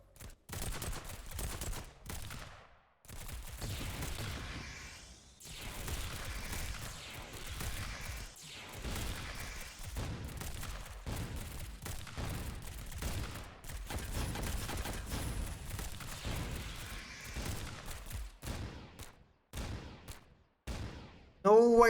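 Near-continuous gunfire and explosive blasts in a video game battle, with dense overlapping shots and booms that surge and dip in loudness for over twenty seconds, broken by a few brief lulls.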